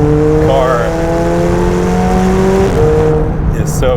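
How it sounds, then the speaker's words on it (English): McLaren 720S 2019 engine pulling at moderate, halfway throttle, its steady drone rising and then dropping briefly with each gear click, heard from inside the car with continuous road noise. "I'm just kind of modestly halfway pushing the throttle, clicking through a couple gears"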